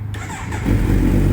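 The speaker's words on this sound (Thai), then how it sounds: "สตาร์ทแชะเดียวติดไม่ต้องบิดช่วยนะครับ" A 2019 Kawasaki Z900SE motorcycle engine cranks briefly, then catches on the first try and settles into a close, steady, throbbing idle.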